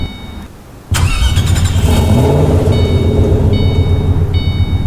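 A 2005 Ford GT Roadster in the Roblox game Greenville cranks and fires up with a sudden loud burst, then settles into a steady, throaty, close idle.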